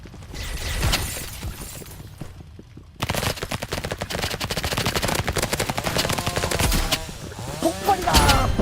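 Gunfire in a video game, including an explosive shotgun, crackles in rapid bursts of sharp, loud shots with shattering impacts, building into a dense barrage after a brief quieter stretch.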